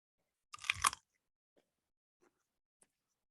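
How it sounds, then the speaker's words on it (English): One loud, close crunch of a bite into a classic dill MJF pickle, followed by a few faint chewing clicks in near silence. "That is a hearty crunch of a pickle."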